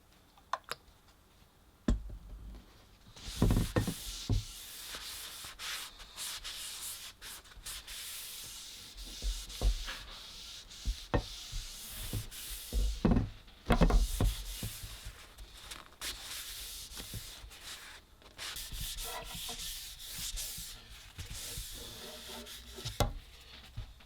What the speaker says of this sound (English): I'm just going to take some mineral oil, rub it into this, and then I'll top it with a coat of beeswax.